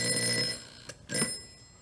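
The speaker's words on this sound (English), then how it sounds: "Ringing the police department." A telephone rings on a call to the police department, two or three bursts of ringing separated by short pauses, fairly close and with no talk.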